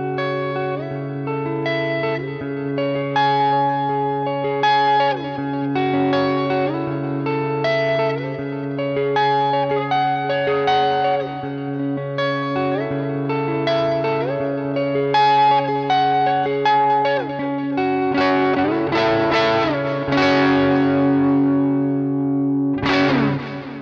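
Electric guitar runs through an Echelon Stereo Echo pedal set to a dotted eighth delay, with a driven, distorted tone. Rhythmic repeating notes and chords cascade in echoes, loud and continuous, with no talking.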